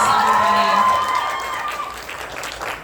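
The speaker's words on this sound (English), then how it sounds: "One more round of applause for Alice Walters, everybody." Audience at a youth theatre cabaret claps for a performer, a dense round of applause with a few cheers that gradually thins and fades.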